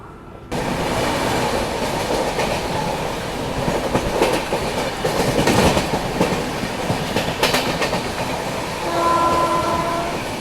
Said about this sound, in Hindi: यहाँ पे ट्रेन ऑलमोस्ट 20 मिनट की रुकी और डिपार्चर हो चुका है फाइनली।